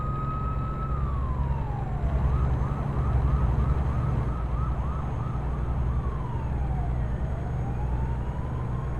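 A police car siren in the American Truck Simulator driving game wails in long rising and falling sweeps, then shifts into a rapid yelp, loud and steady over a low engine rumble.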